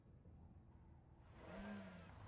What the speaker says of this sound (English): I was worried there for a second that the car was stalling